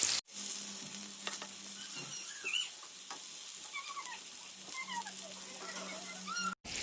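Chicken tikka pieces fry in a pan over medium-high heat, giving a steady close sizzle with small bubbling pops and occasional squeaky stirring scrapes, no voices.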